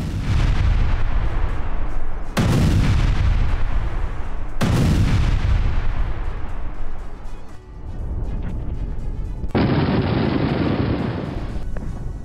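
Russian mortar and artillery fire on a Ukrainian battalion: a series of loud, close, sharp blasts spaced about two seconds apart, each trailing into a rumbling decay, followed by a lower, steadier burst of noise.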